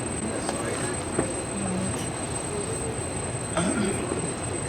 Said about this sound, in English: This train is still going on.